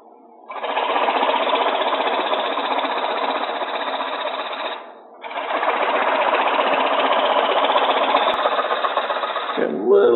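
A wood lathe turning a hat blank runs at high speed, a loud steady whirring drone that dips briefly mid-way and resumes, with the motor running close by and no talk over it.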